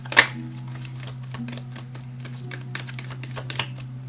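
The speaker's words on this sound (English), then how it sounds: "now we are gonna shuffle more" Tarot cards riffle and slap softly in quick, uneven bursts as they are shuffled, close up over a low steady hum.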